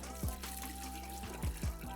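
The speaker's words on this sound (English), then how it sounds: "Now we have fresh water. And we're just gonna take that and rinse the cell." Fresh water rinsing a pool salt cell, a soft continuous run of water with a few brief low splashes and gurgles, fairly quiet and close.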